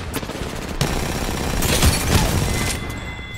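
Gunfire from a weapon in Apex Legends crackles in a rapid burst of close, loud shots with a short pause between volleys and no talking over it.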